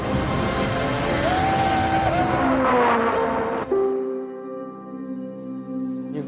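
A 1960s Lotus 25 Formula 1 car with a Climax engine races past at speed, its loud raw engine note rising and falling through gear changes before dropping away to a lower idle-like drone.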